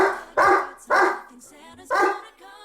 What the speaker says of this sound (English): my dog is my assistant today and he's making a lot of noise in the background